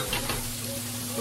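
A burger patty pressed flat on a hot griddle gives off a steady, close sizzle with a soft hiss, and a low voice is faintly present beneath it.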